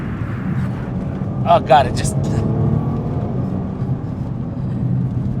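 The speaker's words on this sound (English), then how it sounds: "put it into manual, put it into race, and step on the gas" A 2024 Nissan GT-R Premium with 570 horsepower, set to manual and race mode, accelerating hard: a loud, sustained engine roar from inside the cabin, with a voice exclaiming briefly over it.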